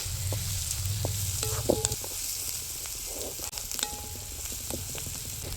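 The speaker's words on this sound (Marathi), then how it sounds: "हळद टाकून आपल्याला हे सगळं मिक्स करून घ्यायचं" Spices and turmeric are stirred into a mash of fire-roasted eggplant in a pan, with a soft sizzle under light scraping and tapping of a spoon, fairly quiet and close.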